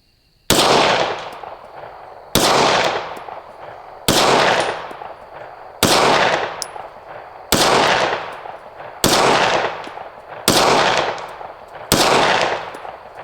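Eight loud, evenly spaced gunshots from an ATI/AHSS FXS 9 are fired at a target outdoors, roughly two seconds apart. Each sharp report is followed by a rolling echo that fades before the next shot.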